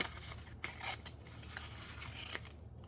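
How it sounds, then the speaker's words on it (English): Several quick snips of scissors through paper ephemera packs for junk journaling, close and crisp, with faint rustling of paper in between and no talking. "I'm going to use a less dangerous set of scissors for a moment"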